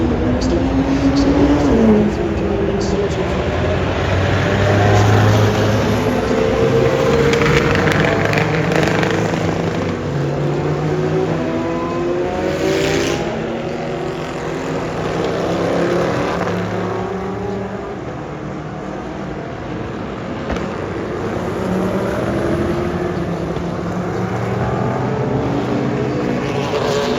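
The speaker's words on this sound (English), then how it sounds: "Monstrous cars, absolutely enormous cars, and they sound fantastic." Enormous race cars on the Silverstone circuit during a festival, loud engine roar sweeping past continuously with rising and falling pitch as cars pass, sustained and near throughout.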